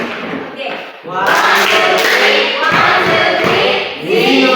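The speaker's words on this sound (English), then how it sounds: "Amazing applause again." A classroom of students performs a rhythmic group applause chant, loud close voices shouting in unison with thumping claps and stomps, bursts of chanting broken by a brief lull.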